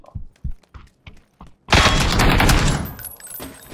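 PUBG video game gunfire: a few scattered thuds and footsteps, then a sudden loud burst of close rapid shots that fills the clip and slowly tails off.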